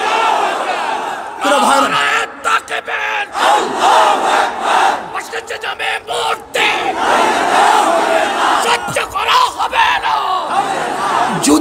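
A large crowd at a religious political rally in Bangladesh shouts the Nara-e-Takbir slogan back in loud, surging waves of voices. A leader's call sets off each wave, and the crowd sounds near.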